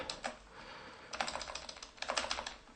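Quick clicking keystrokes on a computer keyboard while code is typed, two short flurries of taps separated by a pause, close and moderately quiet, with no voice.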